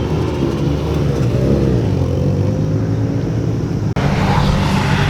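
A Nissan S15 drift car engine at Nikko Circuit during a drift competition: a loud, steady droning roar heard from the pits, continuous for several seconds with a slight pitch sweep, then a brief cut and a return.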